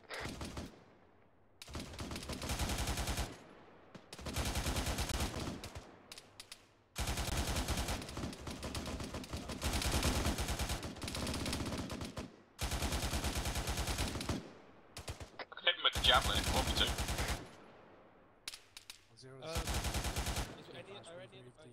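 Repeated long bursts of automatic heavy machine-gun fire in ArmA 3, roughly seven sustained volleys separated by short pauses, loud and close.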